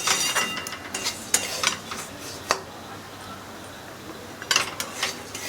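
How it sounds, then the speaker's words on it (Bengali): Mihidana frying in ghee is stirred in a pan, with intermittent metallic scrapes and clinks of the spatula over a faint, steady sizzle. No one speaks. "এবার আমি ভালোভাবে নেড়ে নেব।"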